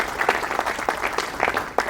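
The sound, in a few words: applause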